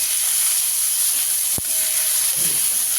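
Chopped brinjal sizzles steadily with onion in a hot pan, a continuous loud hiss with one sharp clack partway through and faint stirring scrapes toward the end.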